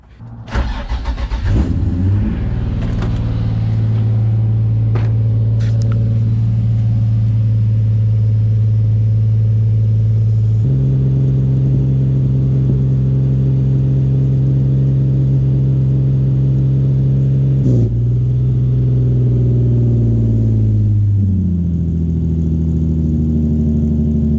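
A Nissan 350Z starts up and pulls away on its first test drive after a transmission job, the engine droning steadily and close with gear changes marked by shifts in pitch, no talking.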